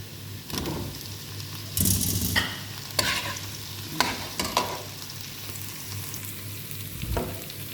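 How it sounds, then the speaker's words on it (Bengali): Prawns fry lightly in a pan with only a spray of oil, giving a soft sizzle broken by several stirring scrapes from a utensil, no one speaking. "সামান্য একটু হালকা ভাজা দিব যাতে কাঁচা গন্ধটা জায়গা"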